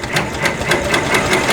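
An embroidery machine stitches out a Calico Garden Forget Me Not quilt block, its needle hammering in a fast, steady, loud repeating rhythm close up, with no talking.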